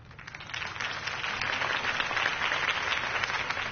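A crowd applauds steadily, a dense wash of clapping filling the space without pause, fairly distant and even in loudness.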